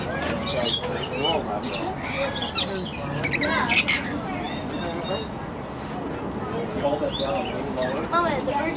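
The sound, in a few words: bird squawking while being fed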